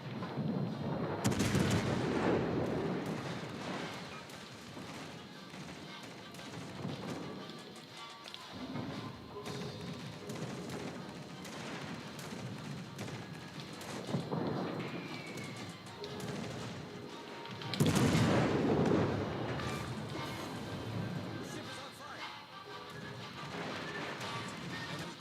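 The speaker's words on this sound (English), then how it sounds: "There goes the rear turret again." A rear turret machine gun fires in an aircraft video game: heavy bursts of gunfire and booming impacts come in waves, with loud clusters early and again later over a continuous rumbling background.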